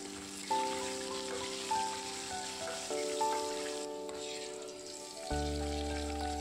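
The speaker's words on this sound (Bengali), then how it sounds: "সর্ষের তেলে কয়েক পিস আলু ভেজে নিলাম।" Potato pieces frying in mustard oil with salt and turmeric, a soft, continuous sizzle sitting beneath louder background music with sustained melodic notes.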